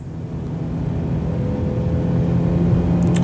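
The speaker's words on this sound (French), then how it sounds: "On a également le moteur intérieur." Car engine heard from inside the cabin in a Fargo sound-design scene, a steady low droning rumble with a faint hum, continuous and even, with a brief high tick near the end.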